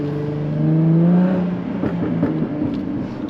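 A supercharged V6 in a 340-horsepower Jaguar F-Type convertible with a sport exhaust revs up close by. The engine swells to a peak, then falls back to a rumbling idle with a few crackles from the exhaust.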